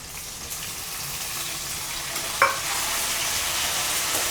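Onions and tomatoes sizzle in a pan for a Chettinad fish gravy, a steady close hiss of frying, with a single brief clink or stir partway through.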